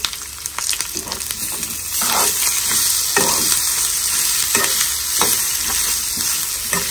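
Grated fresh coconut roasting in a pan while a spoon stirs it, a continuous sizzle broken by repeated scraping strokes, close and fairly loud.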